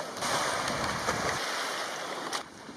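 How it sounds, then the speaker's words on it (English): Ocean waves rolling onto a beach on a sunny day, a steady broad wash of surf with soft crashing swells, moderately close and continuous, with no voices. "The waves are coming too fast."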